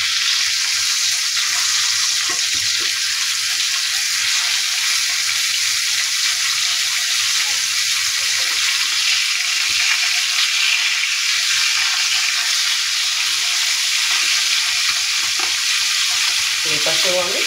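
Pomfret fish frying in hot oil gives a steady, dense sizzle that stays loud and unbroken, with no one speaking.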